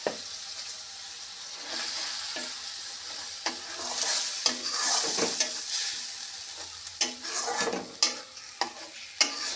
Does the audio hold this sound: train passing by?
no